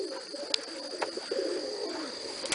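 Pigeons cooing near a loft trap, soft repeated low coos close by with a few short sharp clicks and a steady high whine in the background.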